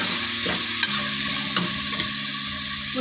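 Ginger garlic paste and coriander powder sauté in a pan for beef gravy, giving a steady loud sizzle with a few soft scrapes of the spoon stirring through, no voices.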